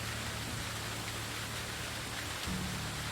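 Rainfall in the game Medieval Dynasty, a continuous close hiss of drops on surfaces with a faint low rumble and a slight swell near the end, no speech.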